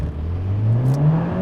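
Honda Civic Type R launched hard with a dropped clutch, its engine note climbing steadily as it pulls away, loud and close with a rising whine and no talk.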